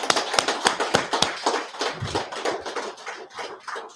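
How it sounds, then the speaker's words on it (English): An audience claps at a Feast of Purim gathering, with sharp overlapping hand claps in a loose, uneven rhythm that thins out toward the end. "All right, clap it up, everybody."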